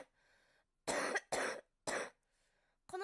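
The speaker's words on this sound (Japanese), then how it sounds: "この咳が出る。" A girl coughs in three loud, separate bursts, each about a third of a second long, with quiet gaps between them and a faint steady tone underneath.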